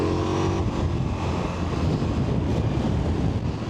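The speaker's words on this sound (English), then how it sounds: "it's windy today." Steady roaring wind buffets the microphone while riding a Ducati Multistrada V4 Rally on a blustery country road, a dense continuous rush with a low engine drone beneath it, no break throughout.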